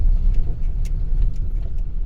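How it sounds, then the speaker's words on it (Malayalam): A Kozhikode city bus bound for Mananchira rolls past on a city road, a loud, low engine rumble with road noise, close and continuous, with light rattling on top. "കോഴിക്കോട് സിറ്റി ബസ്സാണ് കേട്ടോ ആ പോകുന്നത്."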